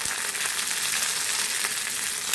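Curry leaves frying in hot oil, a steady bright crackling sizzle that fills the whole moment, close and loud, with no talking.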